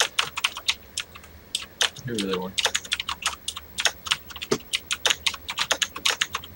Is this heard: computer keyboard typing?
yes